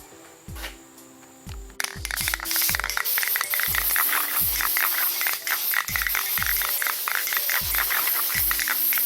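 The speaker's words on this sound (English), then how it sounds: "I'm just gonna use some flat black spray paint" After a few faint knocks, a close can of flat black spray paint hisses in a long continuous spray over Chevy Caprice bodywork, with brief sputters, while a low rhythmic thumping beat runs underneath.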